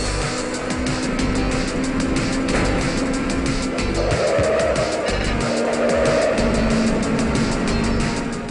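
Race cars in the Ridge Racer 3D video game, a continuous loud engine drone with tire squeal and whooshing as cars slipstream, steady and dense throughout.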